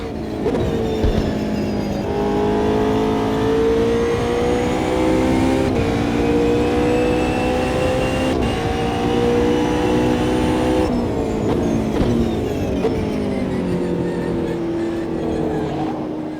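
A McLaren 720S GT3 race car engine in the AMS2 racing sim roars steadily and loud, rising through revs with sharp drops at each gear shift across the whole stretch.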